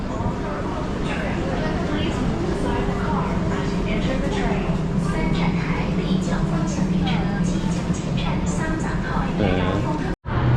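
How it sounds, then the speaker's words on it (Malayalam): A metro train arriving rumbles loudly through a station in China, a continuous roar with people talking underneath that cuts off abruptly near the end. "അപ്പോൾ ട്രെയിൻ വന്നിരിക്കുകയാണ്"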